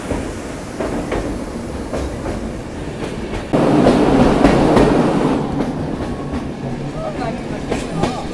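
A Vistadome day train between Sakleshpur and Subramanya rumbles along with steady clattering wheels that swell louder midway, heard from inside the coach.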